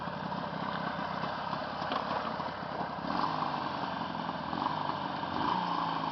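A Jawa 638 motorcycle engine, freshly back from repair, runs steadily at idle, a continuous low rumble and chatter held close and fairly loud with no one speaking.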